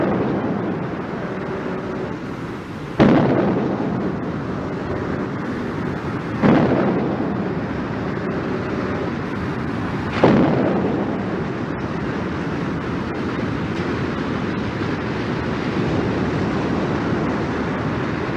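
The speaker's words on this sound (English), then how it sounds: "The platforms were then destroyed by gunfire" Three heavy booming blasts of naval gunfire destroying sea platforms in the Persian Gulf at steady intervals rise over a constant roar of wind and surf, each thud fading back into the rumble.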